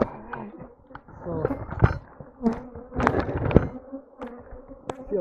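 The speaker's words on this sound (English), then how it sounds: "see all the bees right there?" Bees buzzing loudly and close during a hive removal, with a dense, continuous drone and sharp bursts as individual insects fly past, plus scattered knocks and handling noises.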